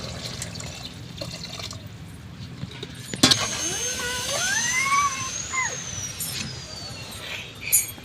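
Tamarind water poured into bottle gourd curry, beginning with a sharp clank and then a smooth liquid stream that swells and fades over several seconds.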